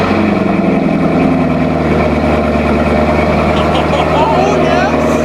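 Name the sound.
sports car exhaust cold start idling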